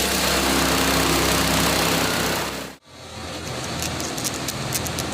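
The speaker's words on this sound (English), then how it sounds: "Install the blade with a polisher for a full polish treatment." Concrete polisher fitted with a blade running over a stamped concrete floor, giving a loud steady motor drone with grinding hiss that cuts out abruptly midway, then resumes at a rougher, slightly lower level.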